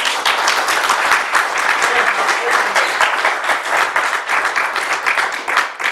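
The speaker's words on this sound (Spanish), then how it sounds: "para que les pido un aplauso." Audience applause for a guest speaker at a talk in Geneva: loud, dense clapping from a sizable crowd, sustained and even throughout, no voices on top.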